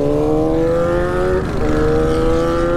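Honda CB1000 Barracuda motorcycle accelerating hard toward top speed, with a loud, steady engine roar that holds a rising, buzzing tone throughout and no talk over it.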